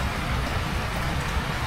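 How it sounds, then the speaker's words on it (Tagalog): Rain falls steadily outdoors beside a fishpond during a landfill job, making a dense, even hiss with a low rumble and no distinct breaks. "Naulan na naman."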